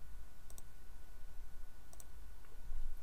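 Computer mouse clicks while drawing a molecule in software, a few crisp paired clicks spaced apart over a steady low hum, close and quiet, with no talking.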